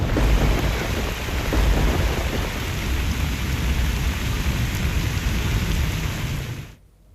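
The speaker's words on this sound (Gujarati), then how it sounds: "રાજસ્થાનના બુંદી જિલ્લામાં સતત ભારે વરસાદના કારણે નદીઓ અને નાળા છલકાઈ રહ્યા છે." Heavy monsoon rain pours down steadily in Rajasthan's Bundi district, a dense, continuous roar of downpour with a low rumble underneath, loud throughout before cutting off near the end.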